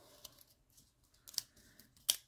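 A pair of thrift store scissors is handled nearby, giving a few faint metallic clicks and snips spaced out over two seconds against a quiet background, with no talking.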